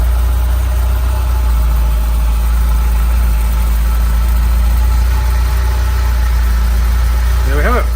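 A 1983 Ferrari Mondial QV with a 3-litre four-valve engine idles steadily and loud throughout, a constant low rumble with a slight rise in revs near the end.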